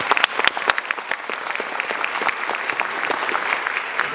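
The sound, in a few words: applause for band member Caitlin at spring concert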